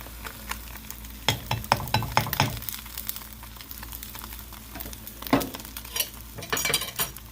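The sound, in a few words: cheese omelet cooking on the fire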